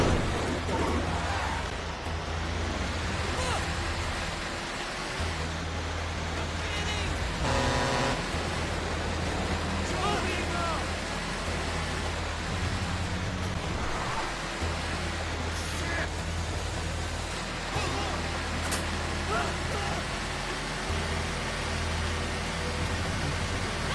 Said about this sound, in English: it's too much easy to drive when you drive it from first person view.